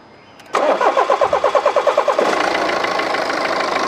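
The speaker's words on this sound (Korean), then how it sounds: "시동 걸어봐." A BMW 5 Series engine under repair cranks with a rapid rhythmic churn for under two seconds, catches, and settles into a steady, close idle.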